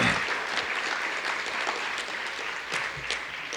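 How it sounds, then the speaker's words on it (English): Applause from a graduation audience at an Indian Education ceremony, moderately quiet but continuous clapping spread through the room, with a few sharper individual claps popping out near the end. "So let's give her a round of applause."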